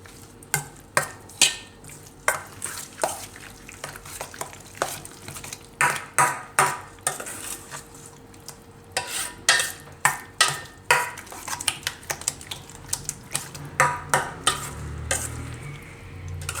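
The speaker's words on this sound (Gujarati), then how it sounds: "આ બધું આપણે મિક્સ કરી લેવું." Beetroot raita ingredients, curd and green coriander, are stirred together in a bowl with a spoon, giving repeated sharp clinks and scrapes in an uneven rhythm, close and clear, alone without talk.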